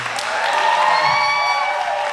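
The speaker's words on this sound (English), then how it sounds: "round of applause for my mom and dad, by the way" Guests at a rehearsal dinner break into a round of applause for the host's parents, a dense, steady wash of clapping with some cheering that holds at full strength throughout.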